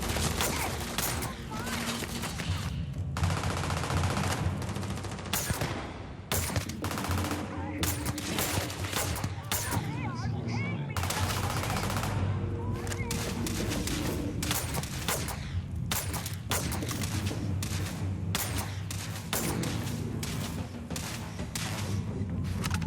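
Dense gunfire in a Starfield space combat fight, with sustained bursts of shots and rattling automatic fire nearly throughout, loud and close, with brief lulls and occasional voices in between.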